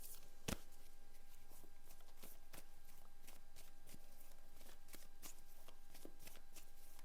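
A deck of tarot cards being shuffled close up, a rapid run of soft papery riffles and flicks with one sharper snap near the start, with no talk.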